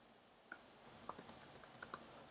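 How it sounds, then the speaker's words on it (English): Typing on a computer keyboard indoors, a quick run of about a dozen light, crisp key clicks in uneven rhythm over a quiet background, close and fairly soft. "Now I'm typing just the text."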